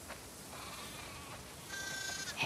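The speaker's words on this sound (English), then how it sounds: "We definitely have way too many sheep." Sheep bleating on a farm in The Last of Us Part 2, a couple of short, fairly faint bleats over soft background ambience, the clearest one near the end.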